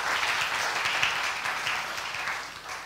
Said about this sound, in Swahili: Tupige makofi juu ya neno la Mungu.